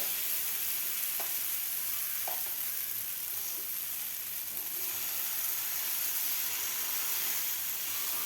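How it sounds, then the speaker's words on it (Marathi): Aloo paratha batter cooks in an oiled pan, filling the clip with a loud, continuous sizzle and hiss, broken by a couple of faint taps, with no voices over it. "सगळीकडून तेल लावून घेतलेलं आहे आता आपण यामध्ये आता हे बॅटर घालून घेऊया"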